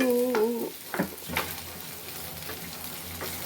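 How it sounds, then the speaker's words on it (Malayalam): Chicken sautéing in a pan on a home stove, a soft steady sizzle with a few scraping stir strokes, close and moderately loud, with a brief tonal clatter near the start. "ഇത് മറ്റൊരടപ്പത്തേക്ക് മാറ്റി ഞാൻ വഴറ്റുകയാണ് ഇവിടെ ചിക്കൻ അടപ്പത്ത് വയ്ക്കുകയാണ്"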